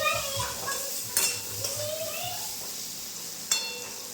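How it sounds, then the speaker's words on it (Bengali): Potatoes with salt and turmeric fry gently in a pan for a vegetarian potato and pointed gourd dish, a quiet sizzle with scattered utensil scrapes and clinks while someone talks over it. "এই যে আস্তে আস্তে ভাজবো"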